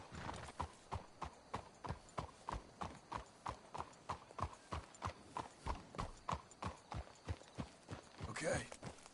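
Horses walk in the video game Red Dead Redemption 2, with crisp, steady clip-clop hoofbeats in an even rhythm, fairly close, and a short whinny near the end.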